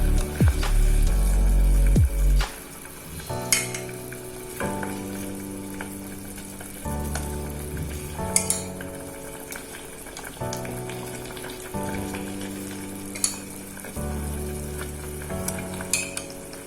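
Beef sizzles and crackles in a hot wok while being stirred and tossed, with repeated scraping clatters over a continuous frying hiss.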